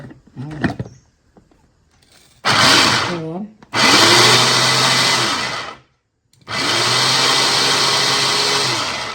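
An electric vegetable chopper chops coriander leaves in three loud whirring bursts separated by short pauses, its motor pitch bending as it starts and slows, with a few clicks and handling sounds at the start.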